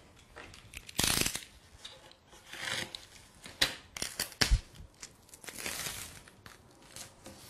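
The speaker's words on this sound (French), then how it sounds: "je vais appliquer, grâce à mon scotch, des grandes bandes" Sharp ripping and crinkling of adhesive tape strips pulled off a roll and applied, several quick bursts with rubbing and pressing between, close and fairly quiet, no talking.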